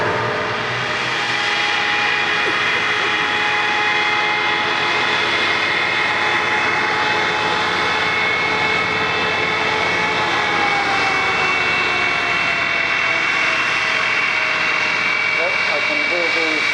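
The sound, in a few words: de Havilland Comet jet airliner engines whining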